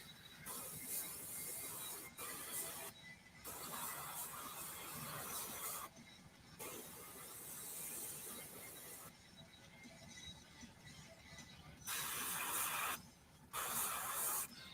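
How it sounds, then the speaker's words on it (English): Airbrush spraying paint in bursts, each a broad steady hiss that starts and stops abruptly, while a compressor keeps running underneath at a painting session. "there's like a lot of sounds going on with like Airbrush and then my compressor"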